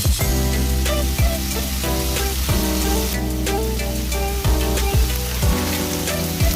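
Kohlrabi stir-frying in a pan gives a steady, close sizzle and crackle that runs through the whole stretch, with a regularly pulsing tonal backing layered over it.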